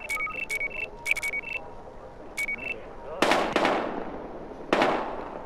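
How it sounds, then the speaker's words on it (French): Video game gunfire cuts through a stretch of short electronic beeps: a sharp crack, a quick second shot, then another loud burst a moment later, each fading with a short echo. "PC, ici l'équipe 13, on a des coups de feu."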